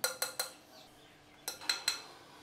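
A spoon knocks against a bowl while mixing corn starch into cheesecake batter: two bursts of three quick, bright clinks each, separated by a short pause, close and clear.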